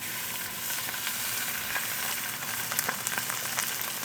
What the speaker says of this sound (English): One side down, let it sear about 4 minutes, then flip it.